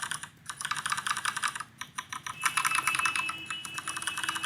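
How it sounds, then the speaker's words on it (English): A normal computer keyboard is typed on while software plays mechanical keyboard sounds, producing rapid bursts of crisp clicky keystrokes with brief pauses, close and clear with no talking. "So this is a normal keyboard, but it's making the sound of a mechanical one."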